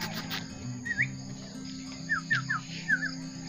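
A chicken gives short rising clucks, one single and then a few quick pairs, fairly faint over a steady background hum with some low noise underneath.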